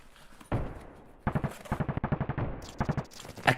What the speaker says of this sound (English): tell me if it's still gonna be loud for you guys if I shoot my gun